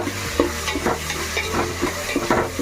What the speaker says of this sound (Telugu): కరివేపాకు నేను చిటికెడు వేస్తా.